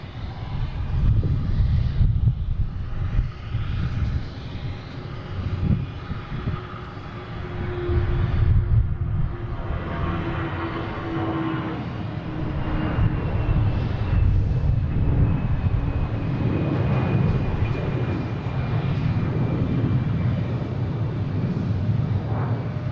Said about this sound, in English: Next taking off is Delta heading to Dallas-Fort Worth, flight 2305